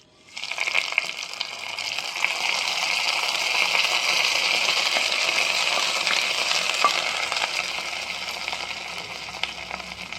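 A hot mustard and fenugreek tempering is tipped into thick Kerala kaalan curry, rising into a steady, loud hissing sizzle that holds for several seconds with faint clinks of stirring, close by and free of speech.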